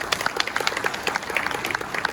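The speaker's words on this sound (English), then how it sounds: "Let's give them all a hand, everybody." A short burst of clapping from a civic audience honoring city staff at a State of the City address, brisk and fairly close, a quick patter of many hands over about two seconds.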